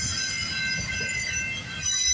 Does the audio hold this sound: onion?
no